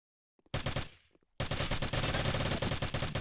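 Video game match gunfire: a few faint pops, then a sudden loud burst of automatic fire that fades out, followed by a sustained, dense fusillade of rapid shots close up.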